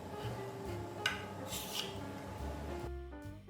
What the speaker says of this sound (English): Gently run a knife around the edges of the pan to loosen it